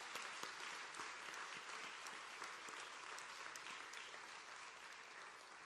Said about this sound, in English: Let's give Teron a round of applause